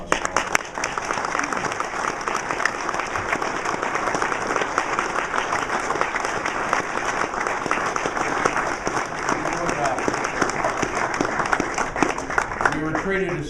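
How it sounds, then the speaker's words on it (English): Sustained applause from a large audience at a National Guard association awards dinner, dense steady clapping filling the room for over thirteen seconds with a murmur of crowd noise underneath. "One more round of applause"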